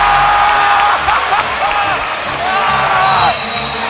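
A basketball crowd roars after a 30-foot shot at a game, loud sustained cheering and whoops with a buzzer-like tone, an announcer talking over it.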